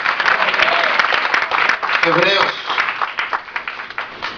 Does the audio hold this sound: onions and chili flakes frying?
no